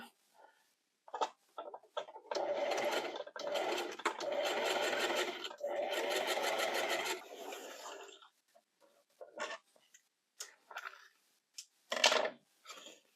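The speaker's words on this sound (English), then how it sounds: "I'm going to put the waistband on it with, I think I'm going to use a straight stitch. Well, actually, I would have to use a zigzag stitch" A home sewing machine runs a zigzag stitch along a gathered skirt's waistband, three close, steady whirring bursts of a few seconds each, separated by short pauses, then a few brief stop-start runs.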